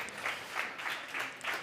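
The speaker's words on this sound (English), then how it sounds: "So big round of applause for these two." Audience applause at a health and wellbeing conference on an arena stage in Valencia, a steady wash of clapping from a sizeable crowd that holds at an even level throughout with no talk over it.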